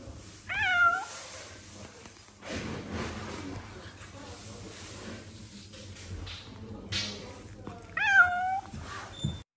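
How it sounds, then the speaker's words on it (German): A distressed cat meows plaintively from inside a carrier bag at a vet's office, two drawn-out cries near the start and end with quieter rustling and room noise between them. "herzerweichendes Miauen"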